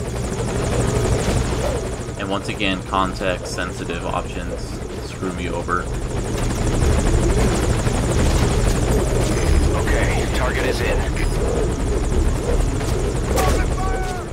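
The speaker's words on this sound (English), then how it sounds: "they're gonna start attacking the helicopter" Continuous thrumming of a helicopter's rotor in Metal Gear Solid V: Ground Zeroes throughout, with someone talking over it and radio chatter mixed in.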